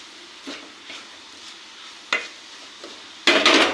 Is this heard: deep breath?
no